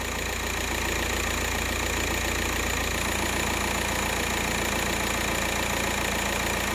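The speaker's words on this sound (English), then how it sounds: "you can hear a tone change in the engine when that happens" A Volkswagen Passat with a BHW engine runs steadily and loud, a continuous close engine drone with a slight shift in tone partway through, no voices.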